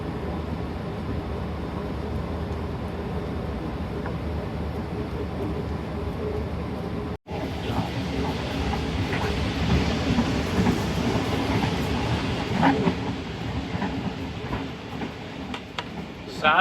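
Aboard the Karakorum Express, a steady heavy rumble of the moving train fills the whole stretch, dropping out for a moment partway through and then returning brighter with faint rattles and clatter, and no voices stand out.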